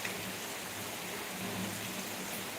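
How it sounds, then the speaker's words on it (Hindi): Heavy rain falling steadily during a dark downpour, a constant dense hiss that fills the whole stretch with no breaks and no voices. "कितना तेज बारिश हो रही है हमारे इधर"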